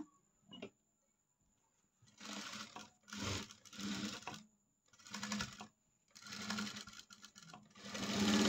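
A sewing machine stitching the front of an Arya work blouse runs in several short bursts of fast, whirring needle clatter, separated by quiet pauses, close and moderately loud with no speech.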